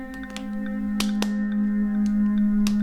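Two sharp hand claps land close together, about a fifth of a second apart, to switch off clap-activated lights, cutting through a steady electrical hum and faint background noise.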